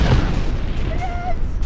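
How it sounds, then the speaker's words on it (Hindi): A large explosion from a drone attack on Tel Aviv at night, a low rumbling boom at the start with a continuing deep roar, overlaid by a voice and a faint siren-like tone. "धमाका बहुत बड़ा था"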